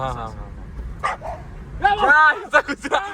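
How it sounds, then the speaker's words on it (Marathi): A dog barks and yips in short bursts, close by, with a person talking at the start. "कुत्रा"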